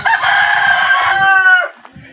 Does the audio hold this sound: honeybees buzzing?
no